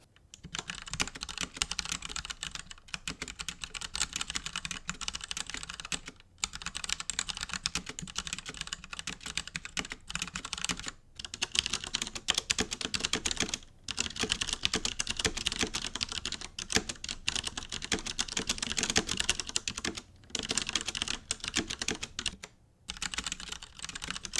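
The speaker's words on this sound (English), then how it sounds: "here's a little video of typing on this keyboard and on this keyboard" Rapid, continuous clicking of keys on a mechanical keyboard with Gateron Brown or Cherry MX Brown switches, recorded up close, with only a few brief pauses in the typing.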